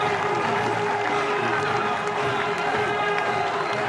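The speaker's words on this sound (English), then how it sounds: "Cries of easy in the crowd." At a 2005 Bangladesh v Australia cricket match in Cardiff, a crowd roars and cheers after a catch, a loud, sustained wash of shouting with clapping mixed in.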